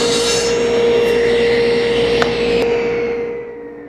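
A SawStop table saw makes one more pass through a workpiece, shaping it for a corner cabinet: a loud, steady whine with two sharp ticks partway through, then a gradual spin-down as the blade coasts toward a stop.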